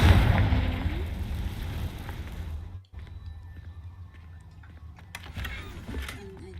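A fire spell cast in Hogwarts Legacy bursts loudly at the start with a crackling, whooshing blast that fades over a couple of seconds, then cuts to a quieter ambient stretch with faint clinks and rustles.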